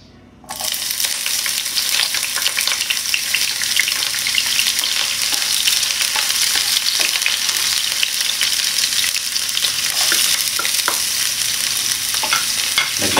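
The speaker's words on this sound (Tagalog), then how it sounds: "ngayon, magigisa na tayo para sa ating squash soup" Onion and garlic sautéing for squash soup, a steady bright sizzle and crackle of hot oil that starts abruptly and continues close and loud, with occasional stirring scrapes.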